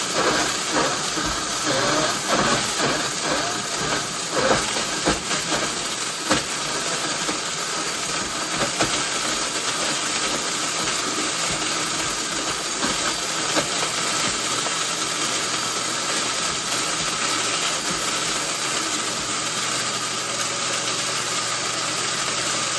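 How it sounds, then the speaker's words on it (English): A blender grinds dehydrated Irish sea moss with a loud, steady, hissing roar that holds constant for over twenty seconds, with no talking. "So now I am going to blend it up."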